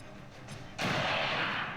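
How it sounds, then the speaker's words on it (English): A frag grenade detonates in XCOM 2, a single loud, broad blast that hits abruptly after a brief lead-in and rolls on as a sustained roar with no voices. "I'm going to throw a frag grenade at these guys"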